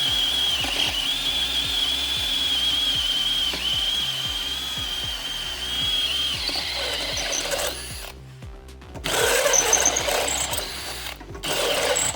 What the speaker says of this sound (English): drilling out these holes a little bit bigger